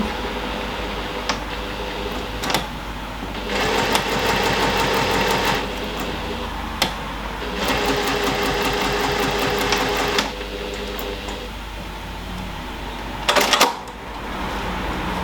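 A sewing machine stitching closed the turning gap of a tote bag, with two longer bursts of fast, even running separated by quiet pauses and clicks of the machine being handled.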